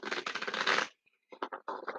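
Tarot cards are shuffled during a reading: a dense papery riffle of flicking cards, then a short pause and a few shorter shuffling bursts, close and fairly quiet.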